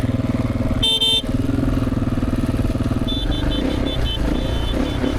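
A 2026 Triumph TF450-E off-road motorcycle engine drones loudly and steadily close to the rider on a trail, with a brief horn-like tone near the start and intermittent high whining notes later.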